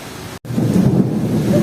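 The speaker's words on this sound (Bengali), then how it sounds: "চারটে পনেরো বাজার মুসলধারে বৃষ্টি" Heavy downpour with a low rumble of thunder during a storm at Mayapur, a dense steady wash of rain after a momentary dropout, loud and close.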